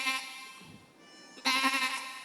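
A human voice imitates a sheep bleating, giving two wavering, nasal bleats separated by a short pause, close and fairly loud, with no other talk in between.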